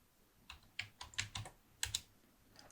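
Short burst of typing on a computer keyboard entering a terminal command, about eight quiet, close key clicks in an uneven rhythm, alone with no talk.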